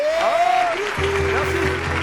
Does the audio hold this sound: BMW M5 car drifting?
no